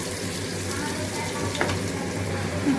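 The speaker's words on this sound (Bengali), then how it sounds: "আলুটা ভাজা হয়ে গেছে, মশলাটা দিয়ে ভাজতে করতে থাকি।" Potatoes with spices sizzle and crackle steadily in a hot pan, a dense continuous hiss with a few brief stirring scrapes.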